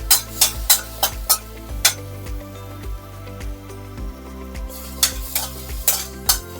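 Green chilli and ginger paste sautés in a pan over a low gas flame, giving a soft, steady sizzle. Sharp spoon strokes scrape and clink against the pan in quick irregular bursts.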